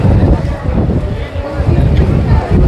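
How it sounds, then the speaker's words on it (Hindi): Strong wind buffets the microphone on a Mumbai street, gusting in loud rumbling bursts that rise and fall throughout. "हवा चल रही. हवा ज़बरदस्त."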